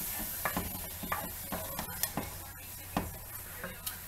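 Vegetables and tofu stir-frying in a pan give a low sizzle under repeated clinks and scrapes from stirring, a steady close kitchen texture with no talk.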